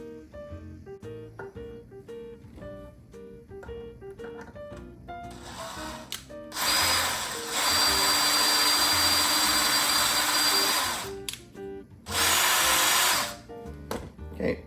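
Power drill boring two 5/32 holes in an engine thermostat, a loud steady high whine from about 6.5 to 11 s and again around 12 to 13.5 s, with quieter workshop background and faint music-like tones between bursts.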